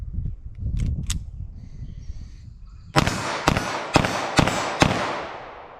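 .380 ACP pistol shots with Lehigh standard pressure bullets crack out in a quick string of five sharp reports, following a few quieter clicks and handling noises, close and loud outdoors.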